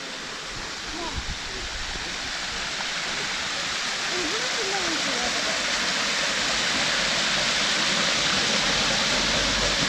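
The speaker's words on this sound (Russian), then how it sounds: "Вот мы и дошли к самому водопаду." Mountain waterfall near Gelendzhik pouring into a rock pool, a steady broadband roar of falling water filling the scene throughout, with faint voices underneath.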